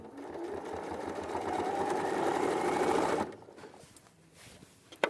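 A sewing machine runs steadily for about three seconds while stitching binding onto a quilt, a close, even whirring hum that stops abruptly and leaves quiet room noise.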